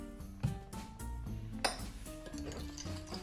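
Egg yolks and pepper being mixed in a bowl, a quiet run of utensil clinks and scrapes against the dish at an irregular pace, with a couple of sharper knocks.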